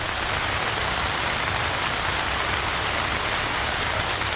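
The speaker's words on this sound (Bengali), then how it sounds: "কখনো মুষলধারে, কখনো হালকা ঝিরিঝিরি বৃষ্টি," Heavy rain pours down in a dense, unbroken hiss, loud and steady throughout the whole stretch with no voices.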